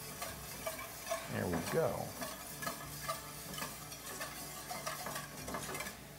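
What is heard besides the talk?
scraping brown bits in a pan while making pheasant sauce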